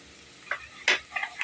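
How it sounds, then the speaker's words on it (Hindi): Red masala frying in a pan after ginger garlic paste has been sautéed, for a bottle gourd and meat curry: a few short sizzling bursts with stirring scrapes, one louder hiss in the middle, close and without talk. "अदरक लहसुन के पेस्ट को भी हमने 3 मिनट तक भून लिया है, अब हम इसमें लाल मसाला शामिल करेंगे।"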